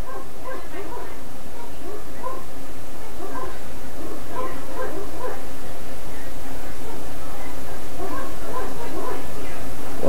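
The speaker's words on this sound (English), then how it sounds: "All the dogs are barking." Several dogs barking and yipping repeatedly in the distance, an irregular chorus over a steady background hum.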